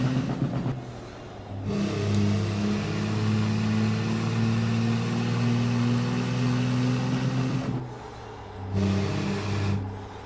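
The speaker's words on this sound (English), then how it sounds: "I just like hitting the red limiter." A truck engine in American Truck Simulator sits at its rev limiter, holding a loud, steady drone for several seconds. It drops away briefly twice, then surges straight back to the limiter.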